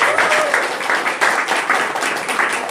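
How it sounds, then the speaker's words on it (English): Audience applause breaks out at a birthday party, a dense, steady wash of many hands clapping throughout, fairly close and full, with faint voices mixed underneath. "how about a nice round of applause in the air"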